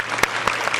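A brief burst of audience applause at a neighbourhood residents' general assembly, a few distinct claps over a soft continuous patter lasting under a second.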